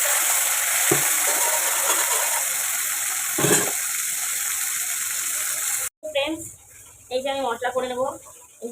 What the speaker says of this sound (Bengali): একদিকে মাছ ভাজা চলছে